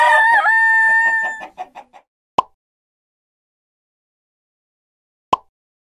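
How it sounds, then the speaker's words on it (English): A cartoon rooster crows a loud, clear cock-a-doodle-doo in an animal flash cards app, followed by a few clucks and two sharp plopping taps after a silence. "Cock-a-doodle-doo. That's how a rooster says, "How do you do?""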